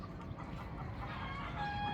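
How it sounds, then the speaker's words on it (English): A chicken clucks in a rhythmic run after laying an egg, fairly faint and a little distant amid steady outdoor background noise on the outskirts of a Philippine city. "the chicken just laid an egg"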